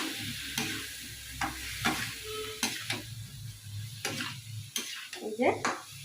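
Okra frying and being stirred in a pan with coriander, a steady sizzle under repeated sharp scrapes and clinks of a spatula against the pan, close and fairly quiet.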